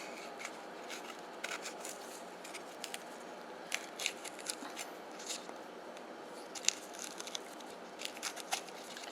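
Tough, stubborn skin being peeled from a jicama root by hand, giving scattered crisp scraping and tearing crackles at an irregular pace, close and fairly quiet over a steady low background hiss.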